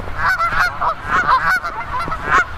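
Canada geese honk repeatedly at close range in a suburban park, loud nasal calls overlapping in an uneven, rapid series with no speech.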